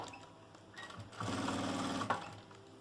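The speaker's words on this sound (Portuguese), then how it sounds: "Vou iniciar uma costura bem na beiradinha aqui." A sewing machine stitches along the edge of a small cosmetic pouch with a clear plastic window. A steady, close mechanical whir runs for about a second after a brief start, then stops with a click.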